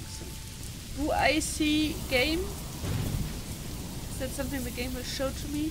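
Steady rain falls in the medieval strategy game Manor Lords, a soft continuous hiss under someone talking.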